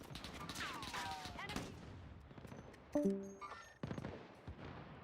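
Gunfire in the battle royale game Call of Duty Warzone: a few sharp, loud shots crack out in the middle and later part of the clip over a busy background of game ambience.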